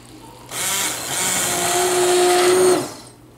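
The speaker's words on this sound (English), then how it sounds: "this little stick blender, and I'm going to blend the soup together" A stick blender purees asparagus soup in a loud, steady whir lasting about two seconds, with a rising pitch as it runs before cutting off cleanly.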